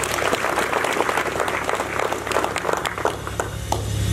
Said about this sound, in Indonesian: Mari kita berikan aplaus dulu.